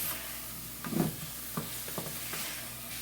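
Peppers sizzle softly in a pan while being stirred for a spotted sea trout dish, with a few scraping stirs, the clearest near the start, over a steady low frying hiss.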